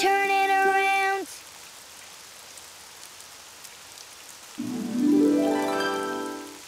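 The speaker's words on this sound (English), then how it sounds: "It's raining outside." Rain falling in a Daniel Tiger's Neighborhood video game, a soft, steady hiss of drops running quietly between bright musical chimes at the start and a rising melodic jingle near the end.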